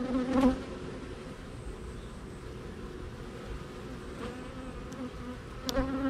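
Bees buzz steadily around a hive, a dense continuous drone with a few louder passes close by and occasional clicks or knocks.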